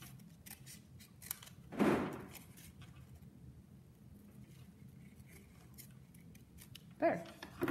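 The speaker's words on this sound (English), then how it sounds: "I'm going to cut from this side up because I can't turn my scissors around" Scissors snipping through paper at a hard corner during a fourth-grade art project, two short crisp cuts a few seconds apart over a quiet room.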